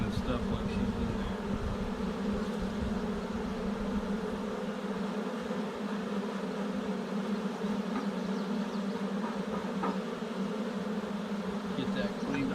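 A honey bee swarm at a newly installed hive, buzzing and fanning in a dense, steady hum that is close and continuous, with people talking quietly underneath.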